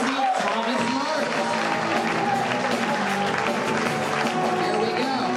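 An audience at a live stand-up comedy show applauds for a comedian being called to the stage, producing continuous dense clapping and crowd noise at full strength for the whole stretch.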